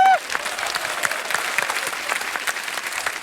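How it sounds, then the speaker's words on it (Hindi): Loud applause from a studio audience at a Hindi comedy show, steady dense clapping that fills the whole stretch after a brief opening tone. "क्या इनके लिए जोरदार तालियां हैं।"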